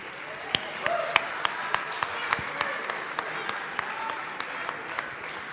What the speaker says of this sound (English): Ladies and gentlemen, a round of applause again for our presidential candidates.